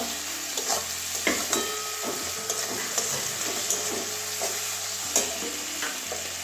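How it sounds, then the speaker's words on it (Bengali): Ground cumin and coriander spice paste fries and is stirred hard in a pan, a steady close sizzle punctuated by repeated spatula scrapes and knocks against the metal. "এবারে ভালো করে মশলাটা কষিয়ে নেব"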